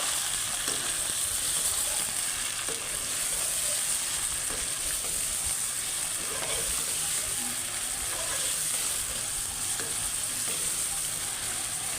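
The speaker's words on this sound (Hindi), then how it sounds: "तकरीबन 4 से 5 मिनट तक हम इसको भूनेंगे अच्छे से" Chicken bhuna for achar gosht sizzles and fries steadily in a pan, a dense continuous hiss with occasional scraping and stirring clicks, close and even throughout with no talking.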